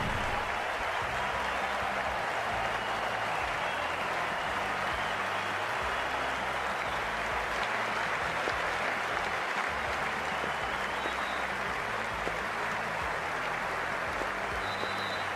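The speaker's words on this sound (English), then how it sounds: "the crowd is making plenty of noise for the opening game" Stadium crowd noise from the Cricket 24 video game at an India versus West Indies T20 World Cup match, a dense, continuous roar of cheering and clapping held at an even level throughout without speech.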